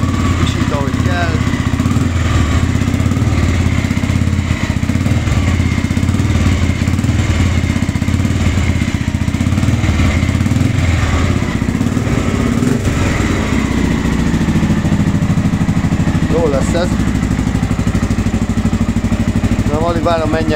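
Honda XBR 500 motorcycle engine, fully warmed up after its first start, idling steadily around 1100–1200 rpm as a continuous low rumble throughout, with someone talking over it.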